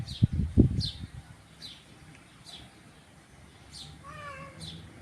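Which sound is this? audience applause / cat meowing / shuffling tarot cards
cat meowing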